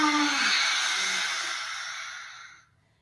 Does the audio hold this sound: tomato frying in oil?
no